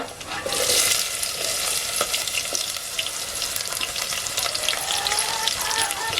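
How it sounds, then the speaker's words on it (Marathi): Onion frying in hot oil with browned garlic on a village wood-fired clay stove, a continuous close sizzle with faint crackles throughout. "तेल मस्त तापलंय हो लसूण ब्राऊन झाले कांदा घालते"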